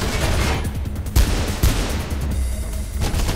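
Mirror's Edge gameplay carries a dense, loud wash of gunfire with a few heavier thumping shots mixed into constant rumbling noise.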